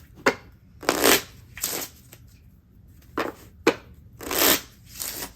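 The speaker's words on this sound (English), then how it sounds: "we will put the queen back in the deck and shuffle" A deck of cards is shuffled several times in quick riffling bursts, each a crisp flutter separated by short pauses, close and clear.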